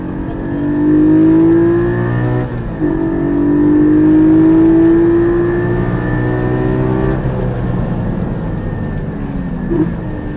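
A Porsche 718 Spyder on track at Circuit de Charade runs a loud, steady engine note that climbs through the revs, with a brief dip near the shift before it pulls hard again. It is close-up, with no talk over it.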